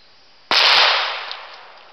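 A single sharp crack from a Savage Model 101 .22 single-shot pistol fired at CDs from about seven yards outdoors, followed by a short fading tail and no speech.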